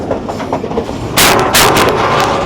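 A Pakistani local train on the Lahore to Shorkot line rumbles steadily along the tracks, then a louder rushing burst of wheel and carriage noise sweeps in close and stays loud.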